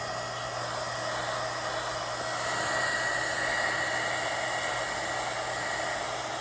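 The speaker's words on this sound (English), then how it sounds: "I just do my heat gun real quick." A heat gun blows steadily over fresh epoxy on decoupage glitter wine tumblers, a constant close-up rush of air with a faint motor hum and no talk.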